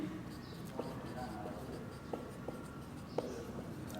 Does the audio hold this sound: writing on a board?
yes